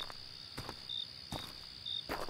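Crickets chirp steadily in a quiet forest at O'Brien State Park, a sustained high trill, while boots thud softly on the ground in a few muffled footfalls spaced about half a second apart.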